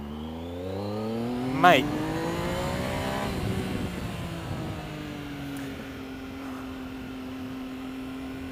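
A Triumph Speed Triple S with its 1050 cc triple engine accelerates, the note rising steadily through the revs and then holding at a lower drone as it cruises on. Wind rush sits over the engine and a voice speaks briefly.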